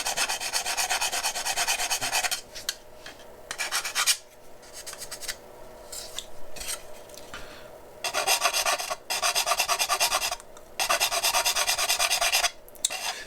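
Harsh rasping as the body of an Aoshima Knight Rider KITT model kit is sanded by hand. Loud, close bursts of rubbing stop and start in rhythmic strokes with short pauses between them.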